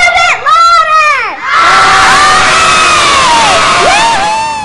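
A crowd of children at a school program loudly shouts a team cheer for an otter mascot, with bursts of rising and falling voices followed by a sustained, raucous roar.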